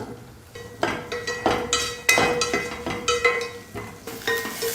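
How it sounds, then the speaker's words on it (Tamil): Finely chopped okra fries in hot oil, with a steady sizzle broken by repeated stirring scrapes and clinks of a utensil against the pan at an irregular pace, close by. "நூறு கிராம் வெண்டைக்காயை பொடியாக கட் பண்ணியிருக்கேன் அதை வறுத்து எடுத்துக்கலாம்"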